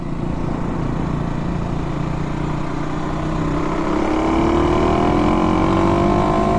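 A 2024 Kawasaki KLX300 dual-sport motorcycle engine drones steadily while riding, then climbs gradually in pitch as it revs. The sound is loud and continuous, mixed with rushing wind.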